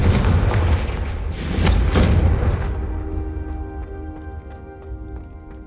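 Confringo fire spell explodes in the Hogwarts Legacy video game, a loud booming blast with a crackling burst that rolls and decays over several seconds beneath a soft musical tone.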